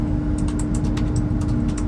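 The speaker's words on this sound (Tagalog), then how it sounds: "Naririnig niyo yung may nagtatype sa kabila" Someone types on a keyboard nearby, a quick run of light clicks over a steady low hum.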